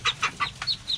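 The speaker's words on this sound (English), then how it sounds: "Look at all those duckies." Ducks and ducklings on a farm nest call with a quick series of short, high peeping notes close by, about five calls in a second, with no talking.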